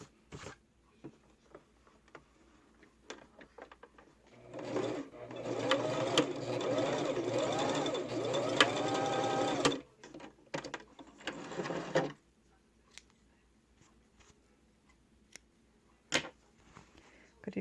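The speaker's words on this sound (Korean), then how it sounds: "저는 미싱으로" Sewing machine stitching a handmade wallet-style fabric pouch: a steady whirring run of several seconds with a brief stop and a short second burst, close, amid soft handling noises.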